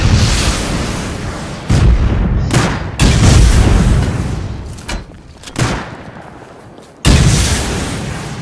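Gunfire in the survival game Rust during a five-versus-five base raid, loud booming shots and bursts in rapid clusters with short gaps, close and harsh, alone without talk.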